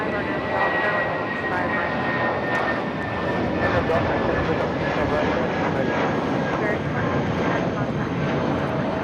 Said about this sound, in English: This is Spirit Airlines 2210 taking off to New Orleans on the A320.